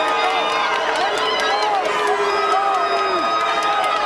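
A boxing arena crowd at an NABF cruiserweight title bout roars loudly and continuously, with whistles and scattered shouts rising out of the steady din.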